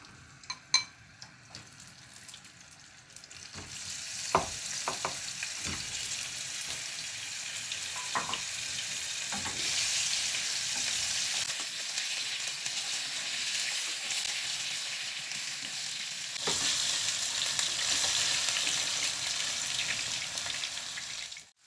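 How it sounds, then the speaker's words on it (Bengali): After a few seconds of clatter, a loud, dense hiss of potatoes frying in oil with salt and a little turmeric takes over and stays steady, with occasional stirring knocks. "তেল দেওয়া হলো, প্রথম আলু ভাজবো"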